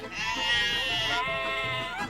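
A sheep in a medieval strategy video game gives one loud, drawn-out, wavering bleat that lasts about two seconds, close and alone.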